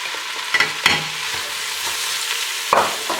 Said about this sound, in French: Voilà, hop, là je rajoute mes poivrons.